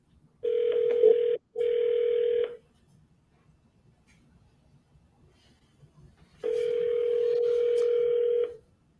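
An unanswered telephone call ringing out, with two steady tonal rings, the first broken by a short gap, followed by a pause and then a third long ring, all clear and alone with no talk.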